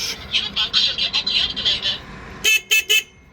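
Three short, loud electronic horn beeps from an electric cargo scooter in quick succession, following a stretch of pulsing, chirpy sound with voices in the background.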